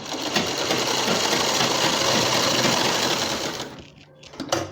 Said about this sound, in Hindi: इस तरह से हम गोलाई में पूरी सिलाई लगाते हुए आ चुके हैं जहाँ से हम सिलाई शुरू किए थे।